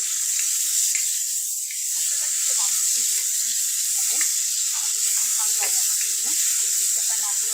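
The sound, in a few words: cardamom and cinnamon being sautéed in a pan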